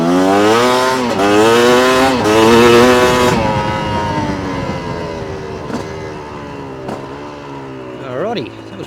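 A Chinese dirt bike engine revs hard through first, second and third gear, its pitch climbing and dropping at each shift, loud and close, then settling to a lower drone with a brief rev near the end.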